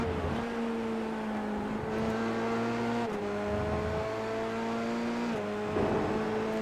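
A Dallara F3 race car lapping Laguna Seca, its engine droning loud and close with a high steady whine, dropping in pitch at shifts and under heavy braking, then climbing again as it accelerates uphill.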